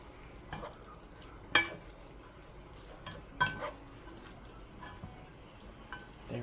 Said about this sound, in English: I'm going to go ahead and stir this around until I get everything incorporated.